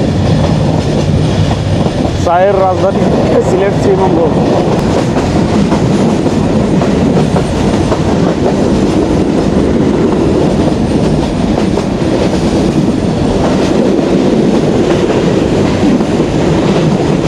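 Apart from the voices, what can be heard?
Jayantika Express train running on rails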